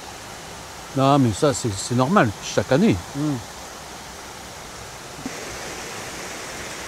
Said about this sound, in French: qu'il y a le bruit de la rivière